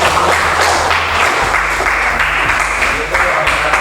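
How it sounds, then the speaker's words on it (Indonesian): Classroom applause for a student group, a dense burst of many hands clapping together, loud and close, continuing over a few seconds with voices heard alongside. "kita berikan aplaus untuk kelompok 1 atas hasil kerja yang dikerjakan"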